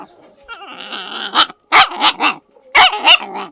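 A village dog in the forested hills of Uttarakhand barks and growls close by. A low growl leads into several sharp, loud barks in quick bursts separated by short pauses.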